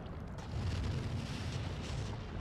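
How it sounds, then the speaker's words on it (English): A cursed fire cloud spell burns in the video game Divinity: Original Sin 2, giving a steady, dense roaring rumble with a heavy low end that swells slightly and holds for a couple of seconds with no talk. "Cursed fire cloud."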